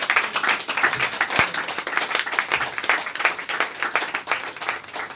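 Congregation applauding in a church service, a dense, steady wash of many hands clapping at close range for several seconds without speech.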